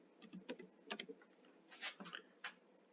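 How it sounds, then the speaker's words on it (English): Quick, light keystrokes on a computer keyboard as a search term is typed, a short, uneven burst of soft clicks in a quiet room. "I'm just going to type in cooking"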